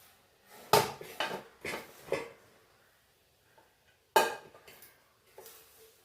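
Chicken biryani being served onto plates, with loud, irregular clatters and scrapes of dishes and serving utensils in two bursts separated by a quiet pause, close by and without talk.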